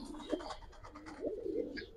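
Giribaz pigeons cooing nearby, two soft, throaty rolling coos separated by a short pause, with faint chirps around them.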